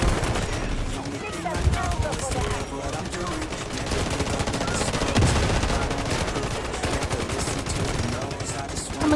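Sustained rapid gunfire from an MK47 rifle in the Delta Force shooter game, dense automatic bursts with game effects and faint speech underneath, loud and continuous throughout.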